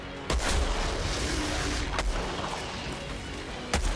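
Sniper rifle shots in the video game Outriders: a heavy booming report at the start, another around the two-second mark and a third near the end, each with a loud rumbling tail over a dense battle background.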